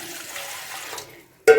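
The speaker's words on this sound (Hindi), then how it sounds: "ये आधा किलो मैंने पानी डाला है" Water pours into a pot for homemade tamarind and plum sharbat, a soft steady stream that tapers off, then a brief louder splash at the end.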